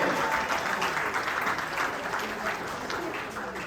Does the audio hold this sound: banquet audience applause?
yes